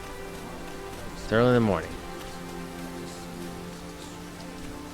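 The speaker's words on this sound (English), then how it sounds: "Rain." Rain falls steadily in Dragon's Dogma 2, a continuous soft hiss of drops that runs beneath a brief spoken line near the start.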